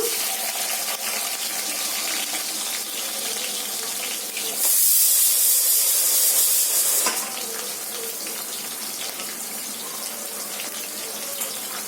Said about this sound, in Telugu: ఈ విధంగా ఆయిల్ వేడయ్యాక మనం ముందుగా కట్ చేసి పెట్టుకున్న ఉల్లిపాయ ముక్కలు వేసుకుందాము